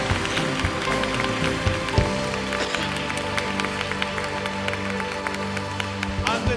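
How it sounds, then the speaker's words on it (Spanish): Loud applause in a church congregation, many hands clapping in a busy patter over a sustained musical chord from instruments, with scattered sharper claps and a brief voice. "De un aplauso bien fuerte"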